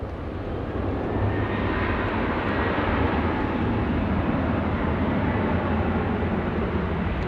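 Airbus A330 airliner arriving at Sydney Airport, a steady broad jet roar that holds level throughout, moderately distant and continuous with no voices over it.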